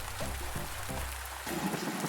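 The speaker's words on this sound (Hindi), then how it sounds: "बाहर बहुत अधिक वर्षा हो रही है" Heavy rain falls outside in a cartoon scene, a steady dense hiss running through the whole short stretch beneath soft tonal background music, with no voices.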